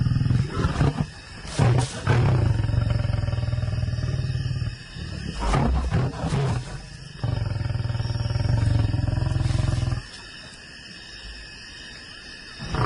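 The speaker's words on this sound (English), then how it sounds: "those growls and roars just rattle through your body" Growls and roars from a huge adult male lion, deep and rumbling, rising in long loud bursts with brief pauses, close by at night in the African bush.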